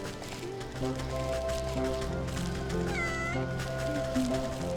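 A cat meows in a cartoonish video game. A couple of drawn-out, clear meows sound close over a bed of game music.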